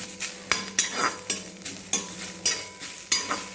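A spoon stirs drumstick leaves sautéing in a pan, sharp scraping strokes every half second or so, with a soft sizzle of frying beneath each stir and occasional metallic clinks against the pan.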